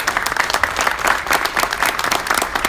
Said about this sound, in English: I think we should have a big round of applause for a true legend of boxing